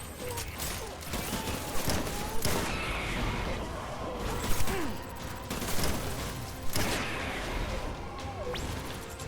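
Repeated heavy shotgun blasts in the game Death Stranding, loud booming shots spaced a second or two apart over constant rumbling combat noise, with occasional crashes mixed in.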